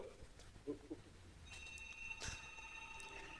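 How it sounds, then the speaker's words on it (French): A telephone rings into a French radio call-in show, with a faint electronic tone that swells partway through and repeats over quiet room noise, with no talking. "On a un coup de fil. Tout de suite, on va répondre à ce coup de fil."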